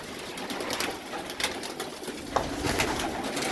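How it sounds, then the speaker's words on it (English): White homing pigeons cooing in a loft, soft repeated coos over a low rustling background. "that was a real good bloodline homing pigeon that I raised last year"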